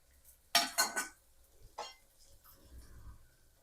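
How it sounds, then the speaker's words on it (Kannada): Carrots and beans are tipped into a pan of frying onions and peas for vegetable pulao, giving a few close clattering clinks of utensil on pan followed by softer scraping and stirring, with no talk. "ಇವಾಗ ನಾನು ಕ್ಯಾರೆಟು ಮತ್ತು ಬೀನ್ಸ್ ಎರಡನ್ನೂ ಹಾಕ್ತೀನಿ"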